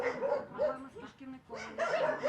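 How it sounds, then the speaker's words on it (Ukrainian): A roughly one-year-old shepherd dog barks at an animal shelter, giving a few close, sharp barks in short bursts with brief gaps between them, and a voice talks alongside. "Це вівчарка. Йому близько року."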